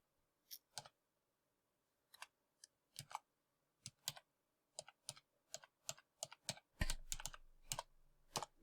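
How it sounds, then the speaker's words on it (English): Someone types a username and password on a computer keyboard: scattered, crisp key clicks in short irregular bursts, growing denser near the end with a soft background rumble. "here you'll have to type in your username and your password"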